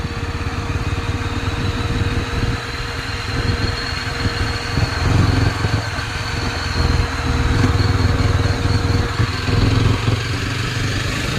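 Motorcycle ridden on the road from Sapekhati to Tinsukia, its engine droning loud and close with steady wind rush and slight swells in revs over the whole stretch.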